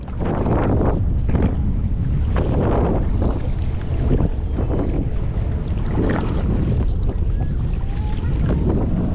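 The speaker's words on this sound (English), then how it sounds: "Wind just ended up getting really bad." Strong wind buffets the microphone during inshore kayak fishing near a kayak launch, a constant loud roar with gusting swells and faint water movement underneath.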